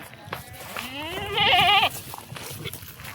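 A single goat at a goat trader's yard lets out one loud, wavering bleat close by, rising then breaking into a shaky quaver before stopping, with faint background noise around it.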